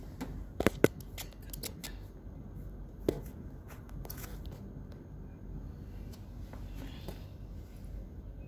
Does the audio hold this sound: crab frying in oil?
no